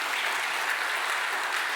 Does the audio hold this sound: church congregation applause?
yes